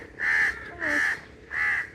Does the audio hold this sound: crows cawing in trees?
yes